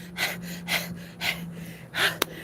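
A man imitates heavy, hurried breathing, several loud gasping breaths in a steady rhythm, close to the microphone.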